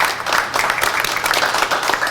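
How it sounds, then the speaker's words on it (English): Audience applause breaks out at a press conference on a Michigan opioid settlement, a dense, even burst of clapping from a room of people that fills the whole short moment. "So she deserves a special round of applause for that."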